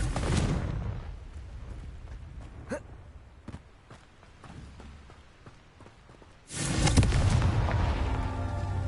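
A Confringo spell explosion in a video game, fought against poachers: a sudden, loud, booming blast bursts in after a stretch of quieter rustling and scattered thuds, then roars on at full strength.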